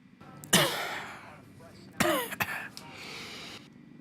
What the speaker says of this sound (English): He started coughing, but actually when you put all the effects on, it actually sounded super dope